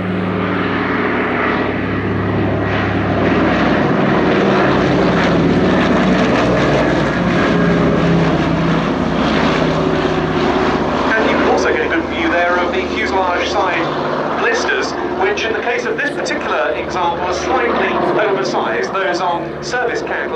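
PBY Catalina flying boat with wingtip floats extended, its piston propeller engines droning loudly and continuously overhead at a Shuttleworth Fly Navy airshow, with the engine tone shifting as it passes and a commentator talking over it.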